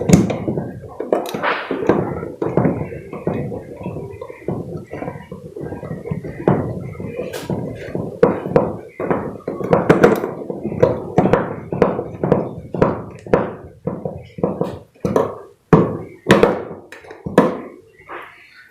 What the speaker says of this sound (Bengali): আর একটি লাগাবো।